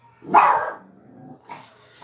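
A small dog lets out one sharp, close bark, followed by a softer yelp or whine a moment later.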